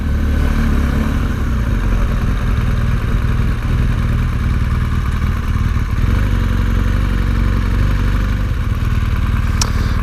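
A 2017 BMW R1200GS Rallye motorcycle's boxer engine runs loud and close while the bike is being parked, a steady low throbbing rumble with faint mechanical clatter throughout.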